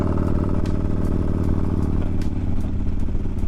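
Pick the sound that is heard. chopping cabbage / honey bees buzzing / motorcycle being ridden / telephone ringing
motorcycle being ridden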